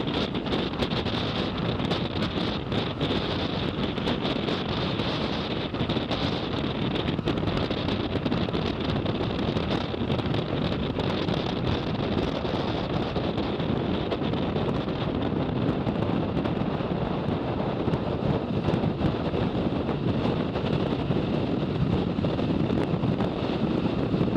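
Strong wind gusts on Campbell Island, a sub-Antarctic island, roaring steadily and buffeting the microphone in a continuous loud rush with no letup, heard alone without voices.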